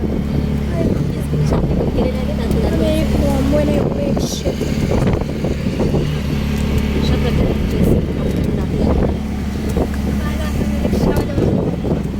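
An auto rickshaw engine drones steadily while riding over a rough road, with wind buffeting and rattling, and people talk over it throughout.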